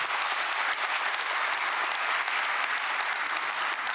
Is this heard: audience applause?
yes